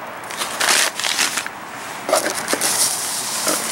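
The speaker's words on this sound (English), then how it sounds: "Let's open this up, see what's in this bag." Plastic bag holding peat pellets for seed starting, opened while unboxing a basil grow kit: continuous crinkling and rustling of plastic with brief crackles, close and fairly loud, no talking.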